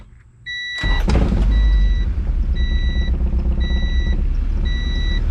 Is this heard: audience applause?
no